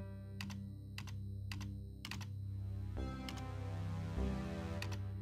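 Keyboard keys pressed in the video game Stories Untold, a handful of sharp clicks spaced over a steady droning background hum, fairly faint and with no talking.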